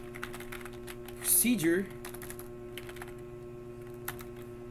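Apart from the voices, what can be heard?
typing on a computer keyboard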